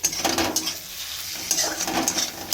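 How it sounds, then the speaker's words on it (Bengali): Spices and potatoes with onion, ginger and garlic paste being sautéed in a pan for rohu fish curry: an ongoing sizzle with repeated scraping and stirring strokes of a utensil against the pan, no talking. "সব মশলাগুলো আলু দিয়ে কষানো হচ্ছে"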